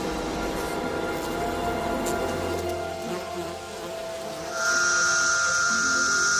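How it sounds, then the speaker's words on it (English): Periodical cicadas of eastern North America, a 17-year brood, singing outdoors: a steady shrill buzzing drone that swells abruptly louder partway through and holds, over a low background rumble. "This is the sound of cicadas in eastern North America."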